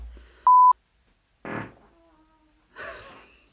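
Two separate fart sounds, a short buzzy one and then a longer, breathier one, come between quiet gaps, preceded by a sharp censor-style beep.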